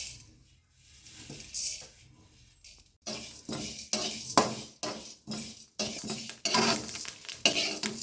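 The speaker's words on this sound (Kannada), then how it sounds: "ಹಾಗೂ ಮೆಂತೆಯನ್ನು ಹಾಕಿ ಹುರಿತಾ ಇದ್ದೇನೆ." Chana dal, urad dal and fenugreek seeds are dry-roasted in a pan for a dry coconut chutney powder. A spoon scrapes and stirs against the pan in quick repeated strokes, with a faint crackle underneath.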